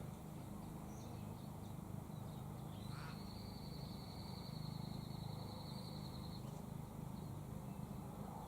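A raven gives a single drawn-out call, faint and distant, heard over a constant wash of outdoor background noise in an apple-growing spot visited by ravens and currawongs.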